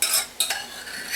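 Browned sausage being stirred into thick, creamy homemade sausage gravy: a short run of soft scraping and spoon clinks, with two brief sharper knocks partway through, close and fairly quiet.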